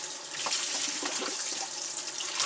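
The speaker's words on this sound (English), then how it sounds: "what I'm going to do is I'm going to rinse this hide off" Running water steadily rinses a freshly fleshed coyote hide outdoors over a dry well, a continuous close splashing and hiss with no talking.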